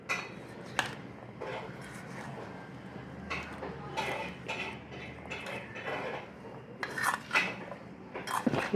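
Ginger pickle being stirred with lemon juice in a dish, a spoon scraping and clinking against the bowl in irregular close strokes over a faint background.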